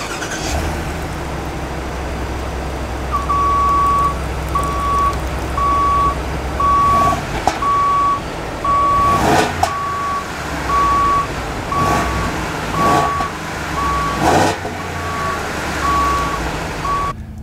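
A 2024 Ford F250 pickup with a 6.8L gas engine rumbles at idle and then revs in several quick bursts. A regular electronic reversing beeper chirps steadily throughout, loud and close.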